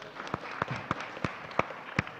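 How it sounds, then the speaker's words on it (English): A handful of scattered, isolated handclaps from the audience at a diplomatic forum on ASEAN tourism, roughly six sharp claps spaced unevenly over two seconds, faint and distant. "give a very big applause to our speakers"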